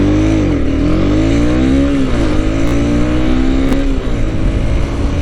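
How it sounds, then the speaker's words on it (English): Honda CB250R, a light 250cc motorcycle, revving hard under strong throttle in traffic, engine pitch climbing in steady sweeps with brief shifts, loud and close throughout with no talking. "if you give it the beans, it's not even full throttle yet, but it definitely can pick up speed pretty well since it's a really light bike"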